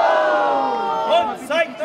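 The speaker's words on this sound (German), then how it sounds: "zeigt noch einmal, dass ihr einen richtigen Großbottwarer Jubel zu geben wisst" A crowd at the Großbottwar medieval market bursts into loud cheering and battle cries during a tavern show finale. The sound is a sustained roar of many voices, with two sharper whooping swells near the end.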